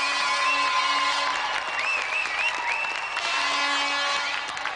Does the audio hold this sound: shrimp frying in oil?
no